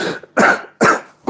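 A person coughs three times in quick succession, close and loud, with brief pauses between the harsh bursts.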